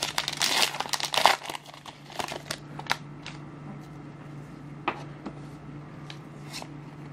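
Crinkly plastic foil of a Pokemon Lost Thunder booster pack wrapper crackles and tears loudly for the first second or so, then trails off into a few scattered rustles and small clicks against a quiet room hum.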